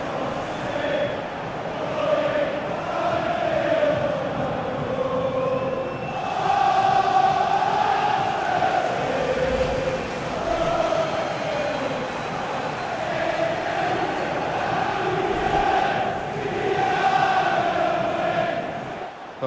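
A stadium crowd in FIFA 20 during a Premier League match between Liverpool and Manchester United, a dense roar of chanting and singing that swells and ebbs steadily, loud and continuous throughout.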